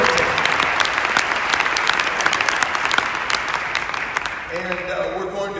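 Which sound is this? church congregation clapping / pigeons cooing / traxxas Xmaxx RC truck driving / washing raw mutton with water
church congregation clapping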